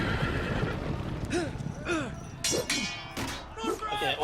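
Several horse whinnies in the video game Game of Thrones: Iron from Ice rise and fall over a busy background of clanks and hoofbeat-like clatter, each neigh short and fairly loud.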